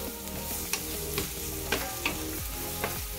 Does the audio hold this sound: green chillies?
yes